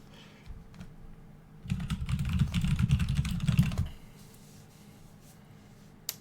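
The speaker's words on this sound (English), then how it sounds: "sorry for my furious typing" Rapid, furious typing on a computer keyboard during a Chip & Dale game tournament, a dense burst of close clicks lasting about two seconds, with quieter scattered taps before and after.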